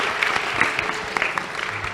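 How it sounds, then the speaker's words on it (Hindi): Children clapping together at a student camp in Faridabad, a steady dense patter of applause with scattered sharper claps, fairly close and continuous throughout. "ताली बजाओ इसके लिए"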